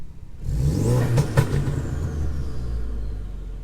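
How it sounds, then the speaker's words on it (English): A Ford Focus RS with an XForce Varex exhaust, valves closed, revs up from idle: a loud, deep engine swell that peaks briefly and settles back into a low rumbling idle. "we'll give that a little rev"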